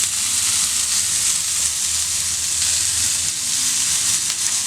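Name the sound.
chicken tikka frying on a dosa griddle on gas stove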